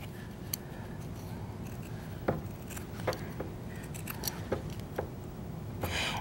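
Scissors snipping through fabric to cut out a quilted rose, quiet and close, with scattered crisp clicks and short cuts at an irregular pace over a low background hum.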